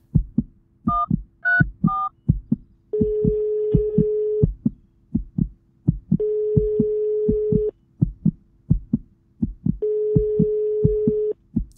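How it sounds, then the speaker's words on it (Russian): An in-game phone call goes unanswered, with a repeating ringback tone of steady long beeps separated by pauses, alternating with a dialing-style chirp pattern, loud and clear without speech. "Отчаянный звук вызова рефреном."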